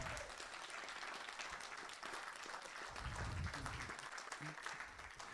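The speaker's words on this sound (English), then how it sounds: "You guys can clap right now" A church congregation claps together through a Sunday service, a steady wash of applause with a few low voice sounds beneath it.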